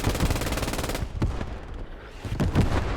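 An MG42 machine gun in the World War II game Squad 44 fires rapid loud bursts on a beach assault, a dense rattling stream, a brief pause, then another burst.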